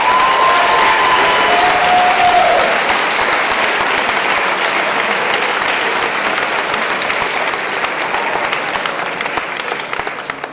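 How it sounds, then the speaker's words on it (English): A large audience of new students applauds loudly at a first-year college convocation, a dense, steady roar of clapping that stays strong throughout and tapers slightly near the end. "Please give yourselves a big round of applause."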